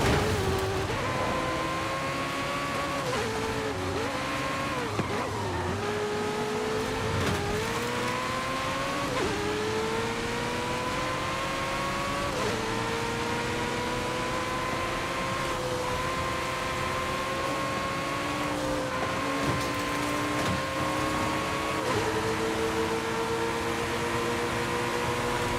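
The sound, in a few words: Ferrari and Lamborghini car engines racing in Forza Horizon 5 video game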